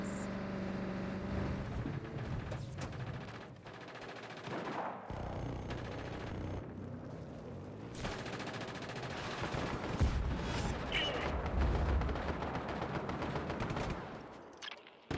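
Heavy gunfire in the video game Just Cause 3, with bursts of automatic fire and explosive blasts layered over engine rumble, loud and near, stopping and starting across the whole stretch.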